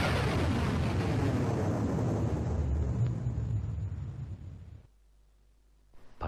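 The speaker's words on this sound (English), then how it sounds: "Perhaps the greatest sound effect is the explosion sound" A loud, rumbling explosion sound effect from the Amiga shoot-'em-up Overkill AGA bursts in and decays over several seconds into near silence, followed by a faint new sound at the very end.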